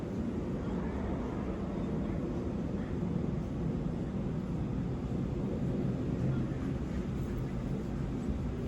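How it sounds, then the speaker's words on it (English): A loud airplane passing overhead gives a steady, broad rumble that holds evenly throughout, with no voices over it. "That plane is real loud."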